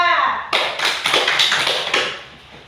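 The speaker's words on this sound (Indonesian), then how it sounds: "Tepuk tangan untuk kelompok 2" Classmates in a classroom applaud a student group, a burst of lively hand clapping that starts abruptly after a brief spoken phrase and tapers off within about two seconds.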